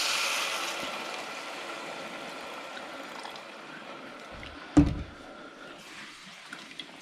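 Water poured from a bottle into a pot of dal lentils, a steady splashing rush that is loudest at first and then thins out, ending with a single soft thud.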